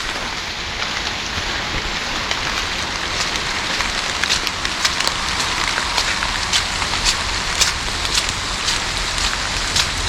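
Heavy rain pours steadily outdoors in South Queensferry, a dense, loud hiss of drops drumming on surfaces with scattered sharper splats throughout.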